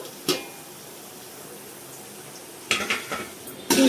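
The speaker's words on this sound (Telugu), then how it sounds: "మనకు మసాలాలు ఉల్లిపాయ ఇలాగ ఫ్రై అయ్యింది కదా" Onions and spices fry in a pan for Rayalaseema-style biryani, giving a soft steady sizzle broken by a few sharp clinks and scrapes of a stirring utensil against the pan, close and without talking.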